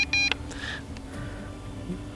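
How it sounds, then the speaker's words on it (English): A Holy Stone HS700 GPS drone transmitter gives short, bright electronic beeps in a quick cluster at the start as its record button is pressed, followed by quiet room background. "I am going to press the record button on my transmitter."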